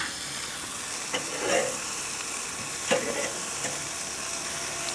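Chicken and pork belly sizzle on a grill in a steady crackling hiss, with a few soft scraping knocks and clatters as the pieces are flipped and moved around.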